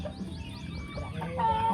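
A fighting rooster clucks in a series of short, rising calls, close and clear over a steady outdoor background hum.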